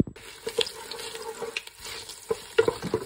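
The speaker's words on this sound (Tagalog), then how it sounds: "igisa muna natin ating luya, sibuyas at bawang" Ginger, onion and garlic sautéing in a pan, with stirring scrapes and clatters over a light steady sizzle, loudest near the end, and no talk.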